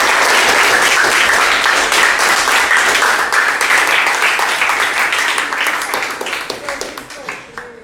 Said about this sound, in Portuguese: palmas para o Leandro